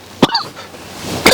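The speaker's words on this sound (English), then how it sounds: "Coughing." Two short, sharp coughs from one person, spaced about a second apart, close and fairly loud, outdoors in the country on a hot day.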